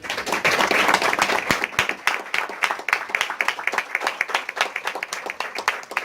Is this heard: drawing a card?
no